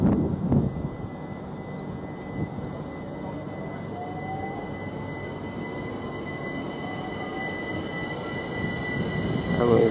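A Greater Anglia train terminating from London Liverpool Street pulls into Cambridge North station, a steady rolling rumble with rising wheel squeal and faint tones drifting across the platform, building slightly louder toward the end.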